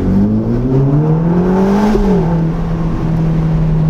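A Ferrari Roma Spider 620 hp convertible accelerates hard, its engine note climbing steadily through the revs, dipping briefly at a quick gearshift, then pulling on loud and close with no talking.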